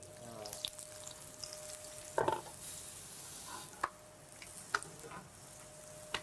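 Oil sizzles softly in a pan while parathas fry, a faint continuous hiss broken by a few sharp clinks and scrapes of utensils.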